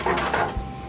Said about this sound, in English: we're just going to get these onions moving around a little bit